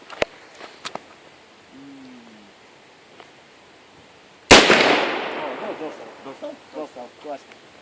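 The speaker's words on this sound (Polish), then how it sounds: "ostatni strzał" A single loud gunshot cracks nearby at an outdoor shooting range after some faint clicks and a brief voice, followed by a long echoing decay rolling across open ground.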